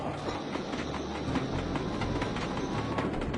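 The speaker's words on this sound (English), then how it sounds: "I gotta be really quick to catch this train." A train in the video game Sly 2: Band of Thieves rumbles along steadily with a continuous clickety-clack rattle and dense rolling noise, loud and unbroken, with no talk over it.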